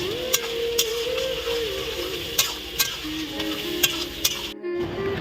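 Duck meat curry cooks in a kadai (wok), with a steady low sizzle and a hum running under it, punctuated by sharp clinks and scrapes from stirring at irregular intervals, close up.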